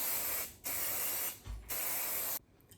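Three long bursts of aerosol hairspray hiss close and steady on hair from a giant salon-size bottle, each lasting about half a second to a second, with short pauses between them.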